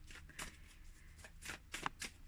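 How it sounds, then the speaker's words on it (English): A deck of cards being shuffled up close, with several quick riffling bursts of crisp flicking and snapping, no talking. "so we're going to shuffle the deck."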